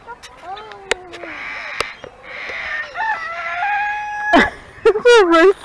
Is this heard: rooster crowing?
yes